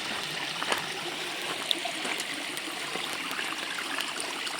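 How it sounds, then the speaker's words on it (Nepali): Water of the Khardu stream in Nepal flows steadily nearby, a continuous broadband rush and trickle with small splashes, alone with no voices. "खर्दो खल्लै खल्ला गइरहेछ है"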